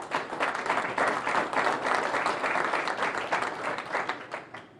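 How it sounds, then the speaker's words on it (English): A press conference crowd applauds a college football head coach before the Las Vegas bowl game, with dense, steady clapping filling the room for the whole stretch before it tapers off at the end. "Nice round of applause for Steve Sarkisian."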